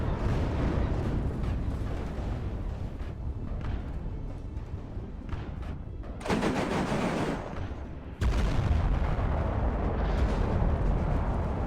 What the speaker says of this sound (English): There's that massive cannon.